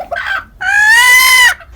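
A village hen squawks loudly up close in a coop, a short cluck followed by a long, strained, drawn-out cry, alone with no talk.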